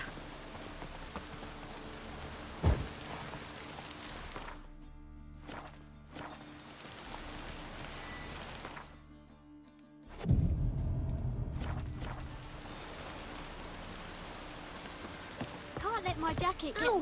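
Steady rain in The Witcher 3: Wild Hunt patters on a surface throughout, with a sharp knock early on and a brief lull before the downpour swells again.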